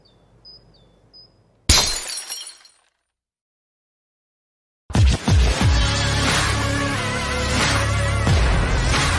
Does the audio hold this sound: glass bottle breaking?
yes